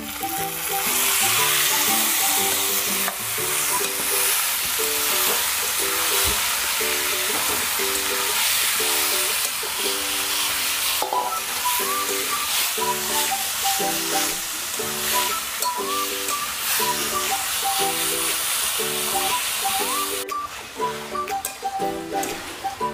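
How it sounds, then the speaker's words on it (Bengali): Marinated chicken hits hot oil in a pan with a loud, close, continuous sizzle and spatter, steady for the whole stretch while a voice talks faintly underneath at times. "এবারে দিয়ে দিচ্ছি ম্যারিনেট করে রাখা মাংস।"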